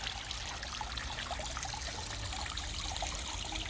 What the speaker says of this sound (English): Waterfall looks like it's running nice.